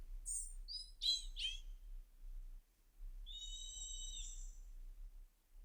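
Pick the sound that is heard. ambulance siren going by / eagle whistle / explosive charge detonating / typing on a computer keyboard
eagle whistle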